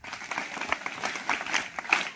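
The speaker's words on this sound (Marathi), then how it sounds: "इकडे इकडे याच्यासाठी टाळ्या वाजवा" An audience applauds with uneven, clearly separated claps from a modest crowd, individual hand strikes popping out of a lively, fluctuating patter.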